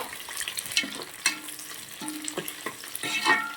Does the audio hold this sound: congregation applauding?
no